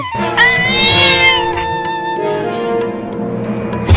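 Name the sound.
cartoon cat meowing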